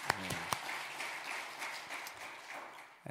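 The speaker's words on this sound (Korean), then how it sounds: "우리 하나님께 영광의 박수 올려드리겠습니다" A church congregation gives a round of applause, soft roomy clapping that swells briefly and then tapers off, with a few sharper claps near the start.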